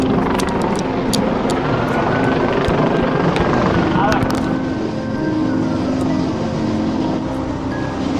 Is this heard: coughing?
no